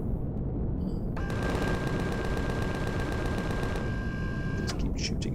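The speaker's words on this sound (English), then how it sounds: "Just keep shooting up the opposition, left, right and centre." Rapid automatic gunfire shooting at enemies in the space survival game Empyrion Galactic Survival, a fast, evenly spaced burst of shots lasting a few seconds over a loud, constant rumbling background, followed by a couple of sharper impacts.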